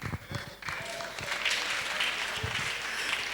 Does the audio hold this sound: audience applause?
yes